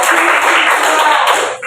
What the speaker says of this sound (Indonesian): kasih tepuk tangan dulu sama teman-teman